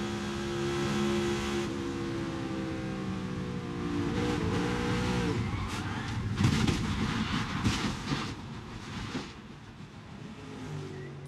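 Onboard NASCAR Cup race car at Indianapolis Motor Speedway, its engine roaring loud and close with shifting, rising harmonic whine and surges of revving, continuous throughout with no talking.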